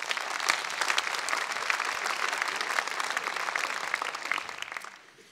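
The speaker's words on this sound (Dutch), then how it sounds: "Een applaus." An audience applauds at a book launch in a basketball arena in Den Bosch, a dense, lively burst of many hands clapping that stays strong for about five seconds before fading out.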